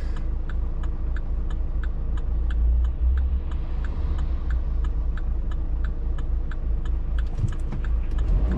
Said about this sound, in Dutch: Er is veel verkeer vandaag.